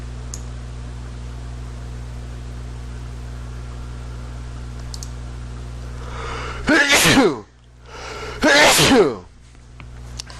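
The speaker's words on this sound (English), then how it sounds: "I'm about to sneeze." Two sharp, loud sneezes in quick succession, each a burst of breathy noise, rising out of a steady low hum.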